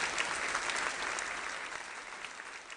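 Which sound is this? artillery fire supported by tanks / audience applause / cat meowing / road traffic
audience applause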